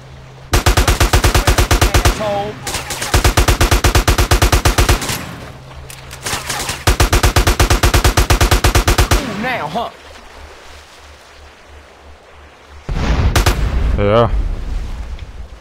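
Automatic AK-47 fire in GTA San Andreas rattles out in three long loud bursts, one after another, then a lull of quieter game noise before another loud burst erupts near the end.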